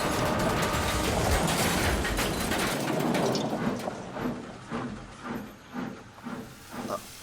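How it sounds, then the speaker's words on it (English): Railway trucks roll out of a siding onto the main line. A broad steam-like hiss gives way to a series of rhythmic, evenly spaced clanks and bumps as the wagons move. "With a hard bump, the trucks rolled out of the siding and onto the main line"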